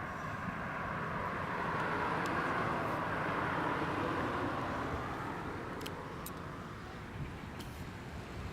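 A Jet2 airliner on approach to land at Leeds Bradford Airport produces a broad, steady engine roar that swells slightly and then eases, heard from some distance outdoors, with a few faint clicks and no talking.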